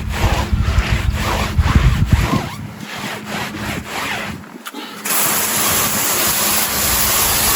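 Brush or sponge scrubbing the body of a Jeep during a wash, a rapid rubbing rasp that is loud and close for the first few seconds, then eases into a steady broadband hiss like running water.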